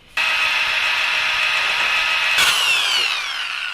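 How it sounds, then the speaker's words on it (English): A high, steady power drill whine drilling out a rusted bolt on an Audi TT runs for several seconds, its pitch dipping as it bites, then tapering slightly at the end. "This will probably need to be drilled out."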